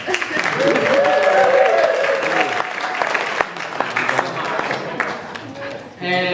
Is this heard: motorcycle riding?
no